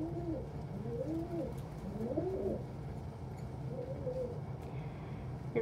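A pigeon or dove coos several times in soft, rolling phrases, close by but quiet, over a low steady background hum.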